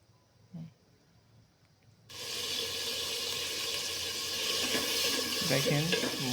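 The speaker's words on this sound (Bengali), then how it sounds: "এভাবে নাড়তে থাকতে হবে" Spiced masala for chickpea lentils (chana dal) cooks in a pot with a splash of water. After a quiet opening with a faint knock, a steady loud sizzle and stirring begins and continues.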